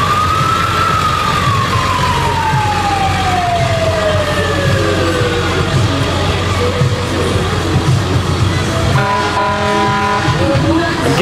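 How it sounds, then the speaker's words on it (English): A Lake Henry fire truck rolls along in a small-town Minnesota parade, its loud siren winding down in a long falling wail over heavy engine rumble, followed near the end by short horn-like blasts. "a very nice looking modern fire truck there that can get out there and hopefully save lives"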